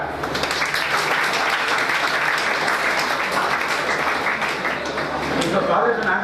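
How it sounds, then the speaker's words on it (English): Steady applause from a large audience fills an entrepreneurship orientation session, a dense continuous clatter of many hands holding level throughout, with murmuring voices faintly underneath. "Let us give him a good clap."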